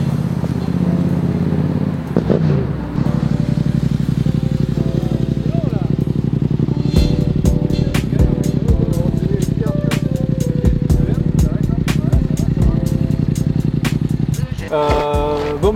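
A black and fluorescent-yellow Yamaha MT-07 motorcycle rolls up, its engine a loud, steady, close throb with a few throttle blips, and people talk nearby before it cuts off near the end.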